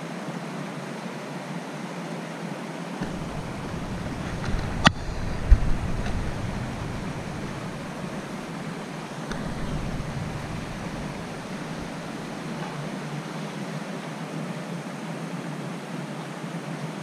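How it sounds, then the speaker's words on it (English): A small waterfall on a canoe portage in Woodland Caribou Provincial Park gives a steady, moderately loud rushing wash of water, continuous throughout with a few faint knocks, and no voices. "First one at the little waterfall,"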